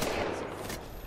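Gunfire in the battle royale game Apex Legends, a dense burst of rapid shots blurring into one loud, continuous crackle across a second, with no talk.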